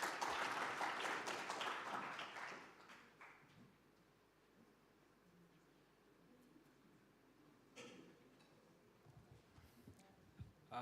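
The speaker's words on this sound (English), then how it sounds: "Another round of applause to our professor." An audience at a strategic plan launch applauds a professor, with a few seconds of lively clapping that quickly dies away into quiet room noise and a few stray claps.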